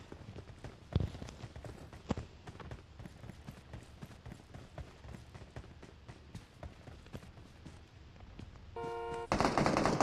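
Rapid bursts of SCAR assault rifle fire in PUBG Mobile crackle through the clip, with sharp single shots mixed in and a louder tonal effect near the end.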